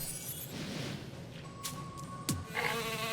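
Sheep bleat in the video game Phobies, a brief cry among game sound effects, chimes and a low background hum, fairly faint, with no talk over it.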